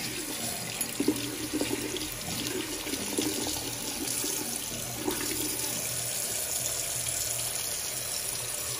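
A steel watch bracelet is washed under a running tap, water streaming steadily and splashing into the sink with brief uneven bursts from the metal links near the start.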